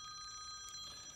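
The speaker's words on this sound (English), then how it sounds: "Another phone call. Wonder who this could be." A phone rings with an incoming call inside a WWII air raid shelter under excavation, a faint, steady electronic ring held through the whole moment.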